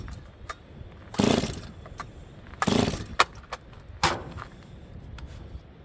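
A Stihl 036 chainsaw catches on choke and sputters in three short roaring bursts that die away between them, each lasting under a second, with faint clicks and knocks in the quiet gaps.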